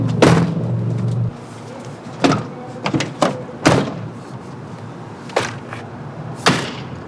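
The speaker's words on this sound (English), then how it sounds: "I better close the doors before I put these bikes on." Van doors are shut on the Oregon coast before bikes are loaded, a run of separate thuds and slams spaced a second or so apart after a brief low rumble at the start.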